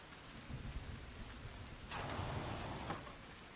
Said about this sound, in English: Being out of the rain's kind of nice, actually.